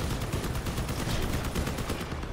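Continuous machine gun fire in the vehicle combat game Crossout, a dense, loud, unbroken roar of rapid shots filling the whole moment with no voices.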